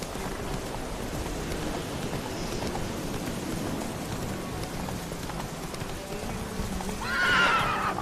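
In The Witcher 3, the horse Roach gallops with steady rhythmic hoof clip-clops over a soft ambient bed, ending with a loud whinny near the close.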